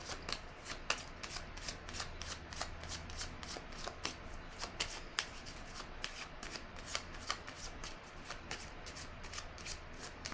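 Tarot cards are shuffled close up, a steady run of soft riffling and flicking snaps repeating throughout at low volume with no talking.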